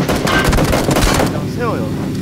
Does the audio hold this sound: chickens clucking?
no